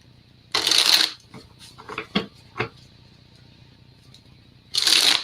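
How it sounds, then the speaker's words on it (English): Tarot cards being shuffled in two quick, loud riffling bursts at the start and end, with a few soft taps and handling clicks in between. "while I'm shuffling for Miss Suzanne"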